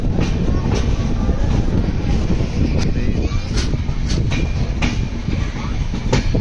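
Steady clickety-clack of the 12450 Goa Sampark Kranti Express running on rails, heard from inside a carriage: rhythmic wheel clicks over a continuous loud rumble.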